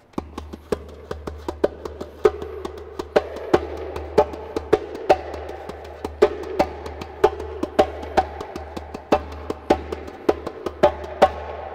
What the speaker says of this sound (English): we get that sound by pressing our hands at the center of the djembe